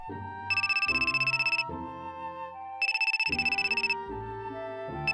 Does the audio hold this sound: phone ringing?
yes